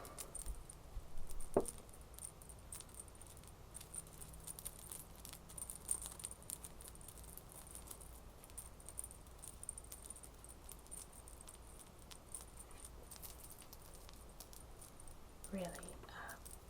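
Earrings with turquoise beads and three hanging gold pieces jangle softly during an unboxing, giving faint, scattered clinks over a steady hiss, with a slightly brighter rattle near the start and again near the end.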